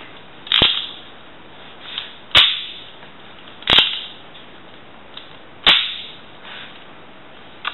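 A homemade Lego gun firing mechanism snaps off four times in sharp, loud cracks, each followed by a short plastic rattle, spaced irregularly with faint clicks between shots and no talking.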